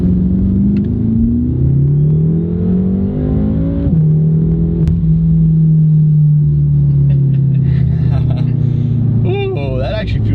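A BMW M6 engine pulls hard under acceleration from inside the car, its loud droning tone climbing in pitch, dropping sharply at a gear shift, then rising again, with voices talking over it.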